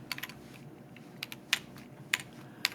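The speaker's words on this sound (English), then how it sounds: "And then we type our message in quotes." Typing on a computer keyboard, a handful of quick close key clicks in an irregular rhythm, fairly faint, with no voices.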